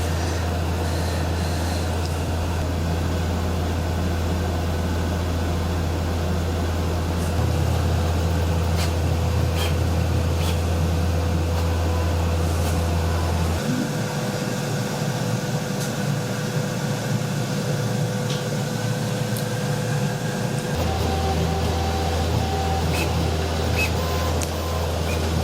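A Qidi Plus4 3D printer printing a bandsaw throat plate hums steadily with a low motor drone that shifts pitch in stages, plus faint whirring and occasional soft clicks, continuous and close.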